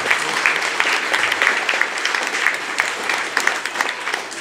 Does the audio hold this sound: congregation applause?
yes